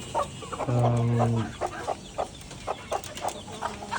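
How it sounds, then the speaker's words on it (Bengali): Desi tiger chickens cluck in a caged farm on a five-storey rooftop, with one drawn-out call near the start followed by repeated short clucks, close by. "সো এই হচ্ছে আমার পাঁচতলা বাড়ির ছাদের উপর খাঁচা বিশিষ্ট একটি দেশীয় টাইগার মুরগির খামার"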